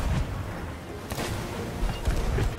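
Ship cannon fire in Sea of Thieves, booming low blasts at the start and near the end with a sharp crack around the middle, over a continuous rumble of sea and battle noise.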